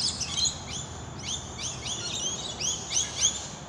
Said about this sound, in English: You can hear there's a lot of birds around.